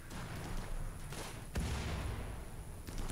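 Gunfire and explosions from a battle in the PC game RimWorld, with a sharp boom near the middle over a continuous rumble of distant shots.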